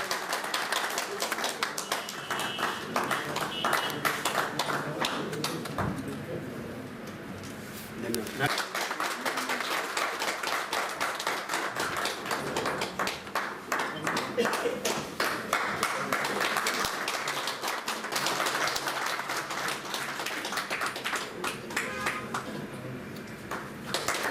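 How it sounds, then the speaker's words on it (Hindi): Sustained applause from an audience at a political gathering for a former Himachal chief minister's visit to Chamba, a steady crackling texture that continues while someone speaks over it on a microphone. "तालियां बजती रहनी चाहिए।"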